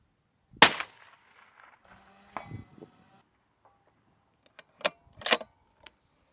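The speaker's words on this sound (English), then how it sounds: "I am shooting a 156 Hunter bullet, and it's a 5 mile an hour rifle." A rifle firing 156 Hunter bullets outdoors in Cameo, Colorado, gives one sharp, loud report early on, followed by quieter clicks and metallic clinks, then a few more crisp snaps near the end.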